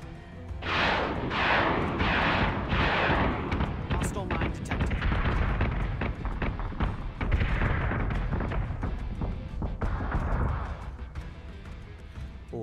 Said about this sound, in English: All hands, fire all salvos.